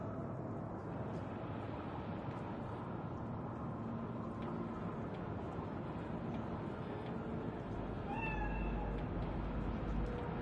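A cat meows inside the Cyberpunk 2077 video game, a short upward call near the end, over a dense, steady hum of game ambience.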